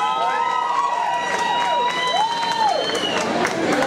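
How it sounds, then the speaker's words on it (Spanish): Crowd at a live concert in a western club cheers and claps loudly and continuously, with whistles and shouts rising over a sustained roar while music tones linger beneath. "fuerte el aplauso, gracias"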